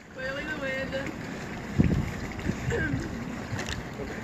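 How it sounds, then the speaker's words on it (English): Wind blows over an open dory at sea, rumbling steadily with gusty buffeting against the microphone, while voices talk faintly through it. "Clearly the wind."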